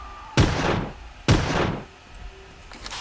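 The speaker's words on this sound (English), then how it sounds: "I am going to shoot it down." Two loud, booming gunshots fired at a dinosaur in the Carnivores hunting game, about a second apart, each with a long rumbling echo that fades into quiet ambience.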